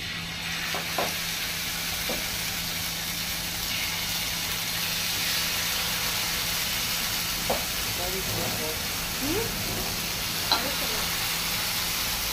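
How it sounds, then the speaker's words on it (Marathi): Chicken pieces coated in cafreal masala shallow fry in oil with a steady sizzling hiss, occasional pops and a few faint utensil clinks over a low hum. "हे एक एक करून तेलान शॅलो फ्राय"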